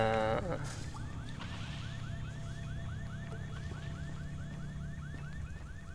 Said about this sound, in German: Hier irgendwo ist ein Auto, das eine Alarmanlage hat.